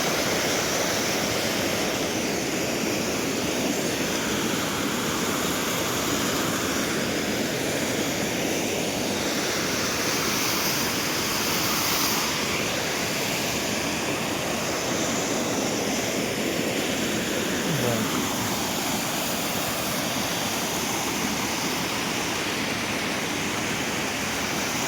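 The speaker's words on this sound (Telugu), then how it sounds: "ఇదిగోండి, ఇది వాటర్ ఫాల్" Panchghagh waterfall in Jharkhand roaring as a constant, loud, broadband rush of falling water close by, steady for the whole stretch with no voices.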